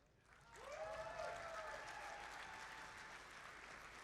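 An audience at a robotics district event's opening ceremony breaks into applause for the referees, clapping swelling quickly and holding steady, with cheers and a whoop rising over it early on.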